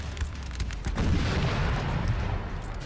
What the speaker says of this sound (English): Oh, they're firing cluster shot.